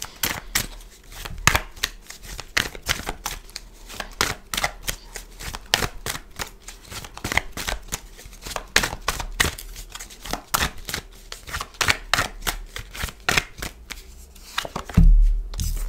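Tarot cards being shuffled by hand, a dense run of crisp riffling flicks and slaps repeating steadily up close with no talk, ending in a louder knock.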